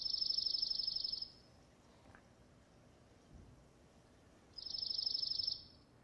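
Dark-eyed junco song: two bright, rapid high-pitched trills, each lasting about a second, separated by a quiet pause; the song repeats clearly against soft background hiss.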